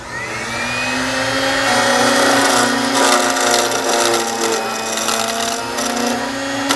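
A key cutting machine cuts the second side of a key, a loud steady motor whine with a high grinding edge that intensifies as the cutter bites into the metal, close-up with no talk.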